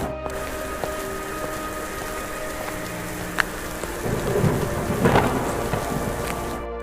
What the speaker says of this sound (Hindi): मोहन भारी बारिश और आंधी में बाजार की तरफ निकल जाता है।